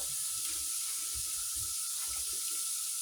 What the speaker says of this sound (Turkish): pırasalarımı yıkayayım